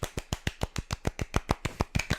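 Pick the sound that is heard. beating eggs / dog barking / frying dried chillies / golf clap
golf clap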